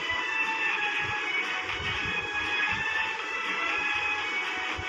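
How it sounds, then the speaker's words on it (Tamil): A cargo train in the video game Subway Surfers rumbles past in a steady, continuous roar with rattling wheels, loud and close throughout, with no talk. "இந்த மாதிரி கார்கோ ட்ரெயின்ஸ்லாம் வேகமாக போவோம் பார்த்துங்க"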